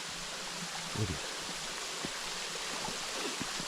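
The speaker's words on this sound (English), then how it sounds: "The only thing you hear is the water." Steady, broad hiss of stream water spilling at Yost Run Falls in the woods, calm and unbroken, with faint low bumps here and there and no voices.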